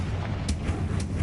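In the video game Hogwarts Legacy, the Confringo fire spell goes off as a rumbling blast, with a couple of brief booming bursts over a dense, low, continuous roar.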